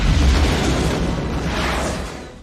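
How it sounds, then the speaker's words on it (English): A missile explosion from Disney's Mulan, a loud booming blast that fills the whole moment with dense rumbling roar before slowly fading near the end. "missile that hits him in the chest, sends him into a tower, and blows him up"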